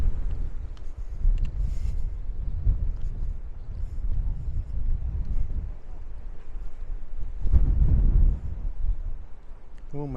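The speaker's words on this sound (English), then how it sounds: "it's really, really windy" Strong wind gusts buffet the microphone outdoors on an evening in the wild, a continuous low rumbling roar that swells in bursts, loudest near the end.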